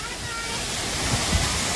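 A small monsoon waterfall roars in a dense, steady rush of falling water, loud and close, with a voice faintly under it.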